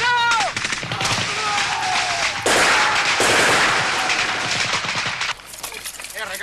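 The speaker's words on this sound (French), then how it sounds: "Yoko, tire la grenade à fusil." A rifle grenade launched from a rifle in a combat setting, heard as loud sustained gunfire and blasts with overlapping shots and crackling debris, close and dense, with voices mixed in.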